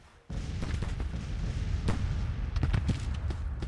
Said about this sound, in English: Fire into them, boys.